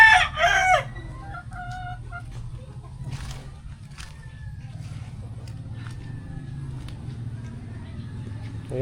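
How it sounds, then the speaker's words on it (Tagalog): Chickens in a backyard coop cluck and a rooster crows briefly at the start, then softer clucking continues under a steady low background hum, with occasional faint bird calls. "Yung mga manok."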